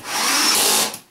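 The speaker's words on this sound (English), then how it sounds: "And 1 more pilot hole to drill." A power drill whines for about a second, boring a pilot hole into the wood of a handmade ammo box, loud and close with no talk over it.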